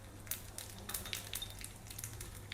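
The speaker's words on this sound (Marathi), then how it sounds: "फोडणीसाठी तेल घेतलेलं आहे, त्यात टाकू अर्धा चमचा जिरे" Half a spoonful of cumin seeds crackling in hot oil for tempering, faint scattered pops and a soft sizzle, close and alone without talk.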